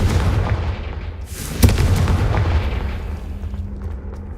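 A Confringo fire spell detonating in the Hogwarts Legacy video game, a sharp loud blast followed by a rumbling, crackling tail that fades over a few seconds.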